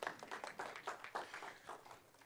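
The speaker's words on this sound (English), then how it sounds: "Let's give them applause." An audience claps in a church service, a quick run of light, moderately distant handclaps lasting a couple of seconds and fading slightly toward the end.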